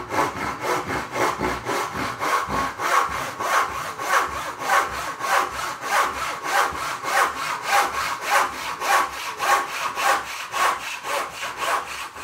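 Budget dovetail saw cutting through thin wood in steady back-and-forth strokes, roughly two per second, each stroke a close, even rasp with no voices.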